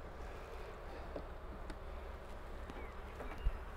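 Faint, steady buzzing of many honeybees at an opened hive during a spring inspection hums continuously, with a soft broadband background and no speech.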